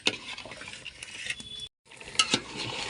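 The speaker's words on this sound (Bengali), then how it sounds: "এখন দিয়ে দেবো বড় বড় করে রাখা আলু, ছেড়ে মিশিয়ে দেব" Large potato chunks being stirred into a Peshawari beef curry, with a spoon scraping and clinking against the pot over a light sizzle, close and moderately loud, cut by a brief gap of silence, no voices.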